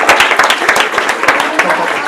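A crowd of schoolchildren at a quiz competition gives a short burst of clapping, with quick, uneven, close hand claps that fill the moment.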